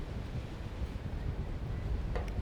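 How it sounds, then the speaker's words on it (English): Steady low rumbling wind buffets the microphone throughout, a constant blustery roar outdoors near water. "now I'm sitting in a park down by the water on a very windy day"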